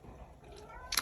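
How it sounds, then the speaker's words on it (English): A pet cat meows faintly in the background, a short cry arriving at the very end over soft room noise, with no talking. "Sorry if you hear my cat in the background."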